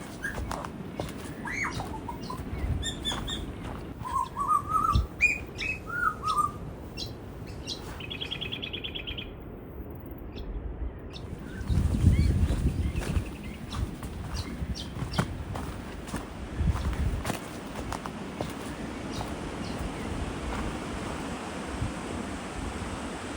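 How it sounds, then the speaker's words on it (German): Birdsong and chirps ring through a quiet forest in Noosa National Park, with scattered calls early on, while footsteps crunch steadily along a trail underneath, growing louder in the second half. "Außer den eigenen Schritten hört man meistens nur die Vögel."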